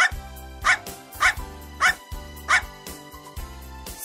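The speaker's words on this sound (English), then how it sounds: "Bark." A dog barks five times in a fairly even rhythm, each bark sharp, short and close, with quiet gaps between the barks.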